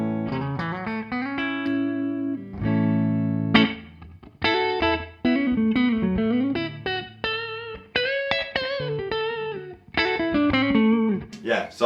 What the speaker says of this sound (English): this is more of a kind of reverb, but it's got that kind of slapbacky kind of stuff going on now